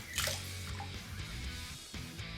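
A wet Simpson synthetic shaving brush is wrung out over a shave bowl: a short squishy squeeze with water dripping and spattering nearby, fairly quiet and alone.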